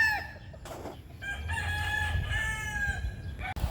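A gamefowl stag rooster crows close by, one long drawn-out cock-a-doodle-doo with clucking around it on a Pampanga farm.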